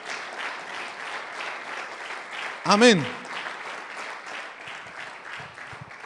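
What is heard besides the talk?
applause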